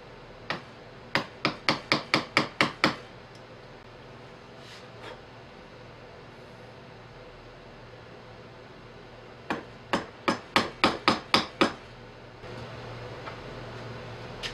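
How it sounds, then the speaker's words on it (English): A chisel is struck to cut a recess for a nut in a wooden knob: two close bursts of about eight sharp, evenly spaced taps each, with a quiet gap between and a faint rubbing at the end. "using a chisel to cut out a recess for a nut, which I'll embed into the knob"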